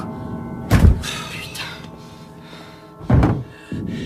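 Heavy thuds strike a door twice, loud and close, with a pause between the blows and a faint knock afterward.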